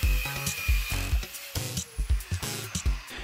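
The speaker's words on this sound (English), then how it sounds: "with a hole saw I removed this big chunk from the side" A hole saw cuts into glued-up wood pieces, a harsh, repeated biting and grinding sound in short close bursts with brief gaps between them.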